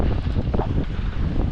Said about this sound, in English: The wind picked up again, and it was a headwind